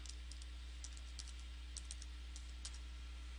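Soft, quick clicks of a computer keyboard as a password is typed, a short irregular burst of keystrokes heard close but faint over a low background hum, with no talking.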